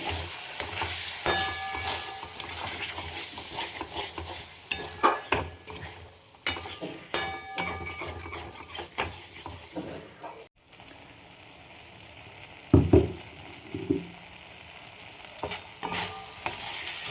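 A spice paste cooked with tomato sauce fries in a pan with a continuous soft sizzle, overlaid with irregular clinks and scrapes of a utensil against the pan. Near the end a few louder knocks stand out.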